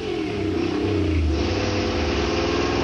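A dyno pull on a test engine making about 417 horsepower and 484 foot-pounds, revving hard toward 6,500 RPM with a loud, sustained engine roar that climbs steadily in pitch.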